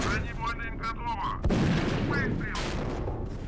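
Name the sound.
tank cannon shot hitting target, video game Steel Fury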